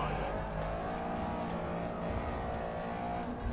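Front-wheel-drive hot hatch racing around Hockenheim in Forza Motorsport 6, its engine droning steadily and loudly with rich harmonics, tyres scrubbing beneath, continuous for the whole stretch.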